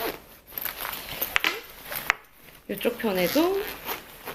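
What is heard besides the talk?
zipper of a travel pouch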